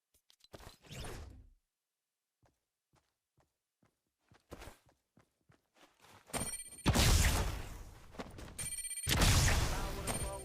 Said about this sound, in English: Impulse grenades might also make their way back into the game this season